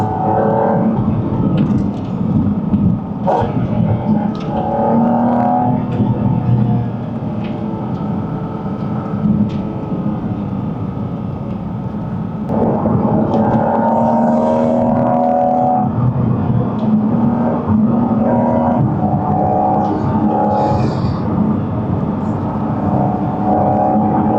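A Porsche 718 Cayman GT4 RS on Dunlop tires is driven along a countryside road, its engine a steady, loud drone that rises and falls with the throttle throughout.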